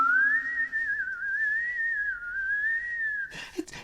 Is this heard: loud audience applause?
no